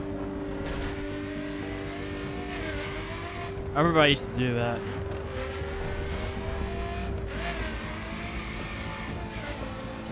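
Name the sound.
car driving in video game The Crew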